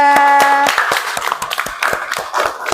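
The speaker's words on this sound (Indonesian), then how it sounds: "Kita beri tepuk tangan untuk kelompok 3" Classroom audience clapping for a presenting student group at an Arabic-language teacher training session, a brief tone fading out as irregular, fairly close hand claps continue for a few seconds.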